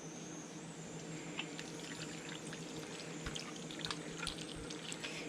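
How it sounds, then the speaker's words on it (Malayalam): Water is poured into a pan of vegetables and chicken for a stir fry, a soft, steady splashing trickle at low volume with no talk. "അപ്പോൾ ഇത് ആവശ്യത്തിന് വേവാനായിട്ട് കുറച്ച് വെള്ളം ഒഴിച്ചു കൊടുക്കുക."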